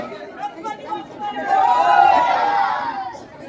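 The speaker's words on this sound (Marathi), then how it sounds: "सगळ्यांचा जल्लोष बघू शकता इथं" Crowd at a Ganpati festival display in Kurundwad, a dense babble of many voices that swells into a loud, sustained cheer midway before easing off, close by.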